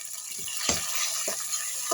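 Mixed tomato-pepper paste and red pepper sizzling in melted fat, a constant crackling fry with a few soft stirring scrapes.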